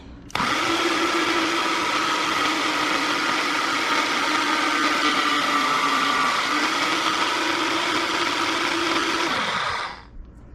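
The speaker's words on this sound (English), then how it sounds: "the Ninja actually talks to you, and it's gonna tell you when they're ground up super fine, because it gets a lot quieter" A Ninja blender grinds dehydrated food to a fine powder, running as a loud, steady whirring roar for about ten seconds with a brief dip midway, then spinning down to silence.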